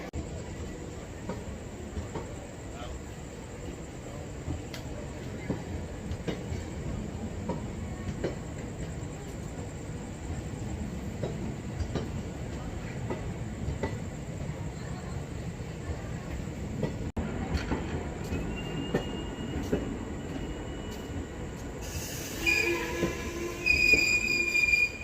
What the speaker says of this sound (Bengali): দেখছি কি ট্রেন আসছে এখন সামনে।